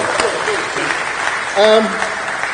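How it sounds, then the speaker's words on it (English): A round of applause for a professor at a London Transport Museum Windrush 75 celebration, clapping running throughout beneath a voice that talks over it. "give him a big round of applause again"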